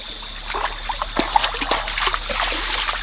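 River water from a stream poured into an outdoor pot while cooking curry crawfish with rice and peas: a continuous splashing trickle with irregular splatters, close and fairly loud, a faint hiss behind it.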